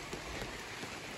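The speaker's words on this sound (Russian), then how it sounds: "ну кто зарядил у нас дождь?" Rain falls steadily on a surface at a summer dacha garden, a dense even hiss of drops with no pauses, fairly faint and uninterrupted.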